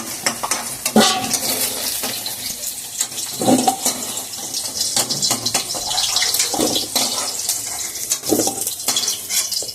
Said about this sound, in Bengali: সয়াবিনের আলুগুলোকে ভেজে নিলাম লাল লাল করে